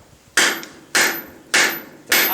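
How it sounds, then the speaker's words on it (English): Four sharp metallic strikes of a tack hammer forging an arrowhead on a stake anvil, evenly spaced about half a second apart, loud and close, each ringing briefly before the next blow, with no talk. "Some ugly hammer strikes."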